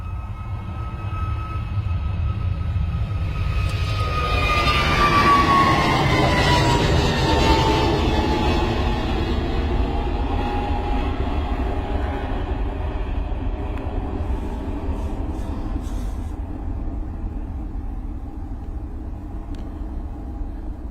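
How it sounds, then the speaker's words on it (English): An EasyJet airliner departs Bristol Airport with a loud, sustained jet roar. A whining tone sweeps downward as it passes close by, then the rumble eases off gradually over about twenty seconds, with no voices. "here's your EasyJet departure, folks"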